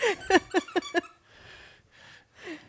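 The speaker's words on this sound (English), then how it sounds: "we have a double doodle that is driving us nuts as we are sitting on the floor. And now you can hear her squeaking" A double doodle dog squeaks in a quick series of five sharp, close high-pitched cries, then gives a few softer breathy whines as it settles down.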